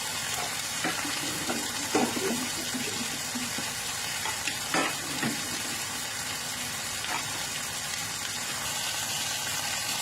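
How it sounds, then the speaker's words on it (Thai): Steady sizzling of beef and salmon on a hot grill, with a few louder pops and crackles scattered through; no one speaks. "กับเนื้อย่างนะคะกับแซลมอนย่างเลยค่ะแซลมอนย่าง"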